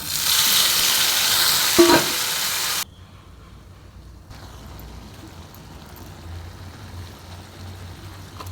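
Cumin, garlic, onion and chopped tomatoes hit hot oil in a pan for a tomato chutney. A loud, bright sizzle lasts a few seconds, then drops to a quieter, steady frying hiss.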